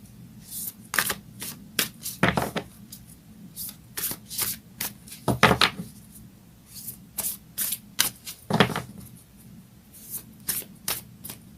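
Moonology oracle cards shuffled by hand in a quiet room, a steady run of crisp riffling bursts and soft slaps repeating every second or so, close and alone with no talking.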